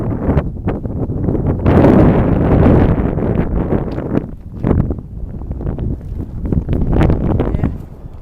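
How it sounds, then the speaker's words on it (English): Wind gusting over an exposed mountain summit, loud buffeting rumble hitting the microphone in uneven surges, strongest in the first few seconds and easing off in pulses. "It's starting to get a little windy up here and chilly."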